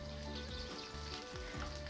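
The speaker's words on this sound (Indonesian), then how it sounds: "Setelah air mendidih, kemudian masukkan brokoli putih." Cauliflower pieces drop into a pot of boiling salted water, giving a close, steady bubbling and hissing wash with soft splashes and low rumbling underneath.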